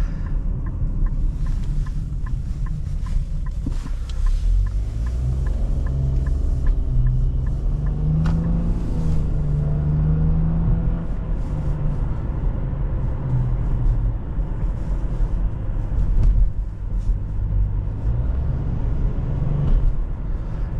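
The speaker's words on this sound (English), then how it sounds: "You can actually hear that little turbo spool up too." Cabin rumble from a 2022 Nissan Rogue Platinum with a 1.5L variable-compression turbo engine while driving, the engine note rising as the turbo spools up, steady and moderately loud with no talking.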